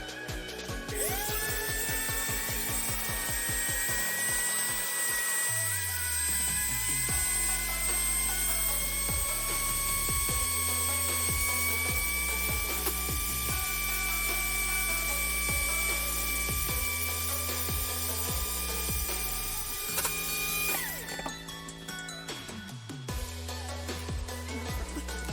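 A power drill whines steadily and loudly, its pitch shifting in long sustained runs with brief pauses, up close and without talk.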